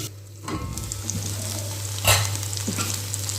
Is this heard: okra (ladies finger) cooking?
yes